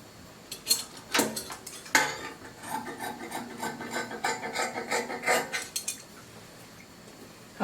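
Scissors snip through fabric along a dress neckline, with close, irregular crisp cuts and rustling as the cloth is handled and shifted on the table.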